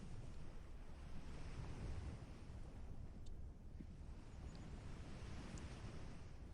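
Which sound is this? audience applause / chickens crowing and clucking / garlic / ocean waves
ocean waves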